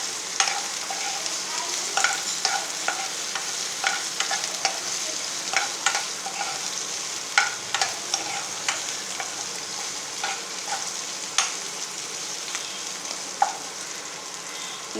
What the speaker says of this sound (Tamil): ஒரு 5 நிமிஷம் இப்படி வதக்கிட்டுருங்க